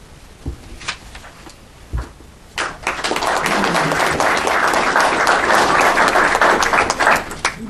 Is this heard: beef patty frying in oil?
no